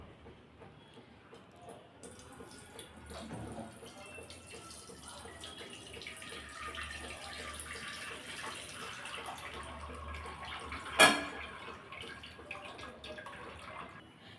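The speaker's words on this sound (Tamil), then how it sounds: "இப்போ கொதிக்க வச்ச வெல்லத்தை இதில் நல்லா வடிகட்டி சேர்த்துடலாம்." Boiled jaggery syrup is strained and poured into ground rice, giving a steady liquid trickle and pour that runs through the quiet kitchen, with one sharp clink near the end.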